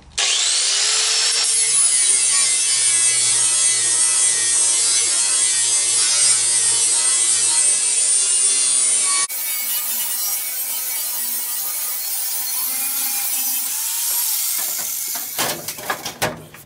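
A power tool trims and squares up a wood floor piece for a Ford F100 passenger floor repair, running loud and steady for about nine seconds, dropping briefly, then continuing before a few scattered clatters at the end.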